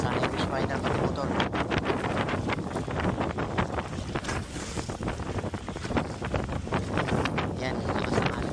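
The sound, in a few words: strong sea waves around Hobie Compass kayak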